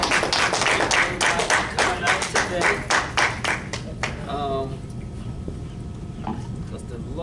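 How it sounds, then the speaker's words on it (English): Congregation at a church worship service clapping hands in praise, a brisk run of sharp claps over the first few seconds before thinning out, with voices talking under and after it. "Let's give the Lord God a hand clap of praise on today."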